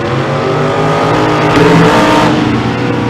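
Loud drag racing car at an outlaw series event in London revving hard and accelerating, a roaring engine with rising pitch that swells midway, heard close with no talk.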